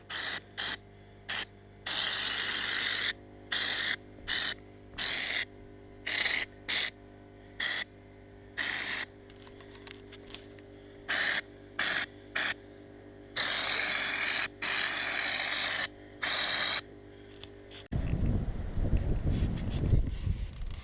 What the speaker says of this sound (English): So what I decided to do was just spray over the original screws and the places and the gaps that I've already painted.